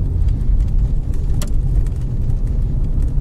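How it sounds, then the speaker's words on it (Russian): An automatic 2020 Lada Granta pulling away in fresh snow, a steady low engine drone with tyres working for grip, continuous and close without any clear shift in pitch. "Вот газ нажал, на второй зацеп поймал и тащит ее."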